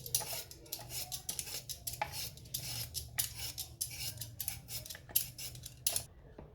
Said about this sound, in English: You have your vegetable peeler, go ahead and peel them up.